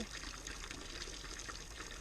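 Water is pumped out of a tub in an outdoor biochar kiln water-heating setup, a steady faint splashing, gushing flow that runs continuously with no voices.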